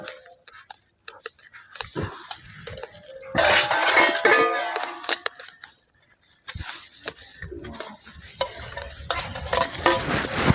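Dishes being washed by hand in a home, with utensils and pots clinking and scraping in irregular bursts, loudest in the middle stretch and scattered clatter throughout.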